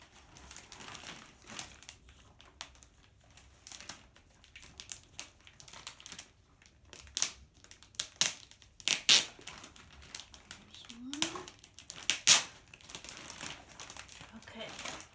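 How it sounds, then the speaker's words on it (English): Plastic packaging crinkling and crackling as a gallery-wrapped canvas print is unboxed, close irregular rustles and sharp crunches, with a person speaking at times. "Take it out of the plastic."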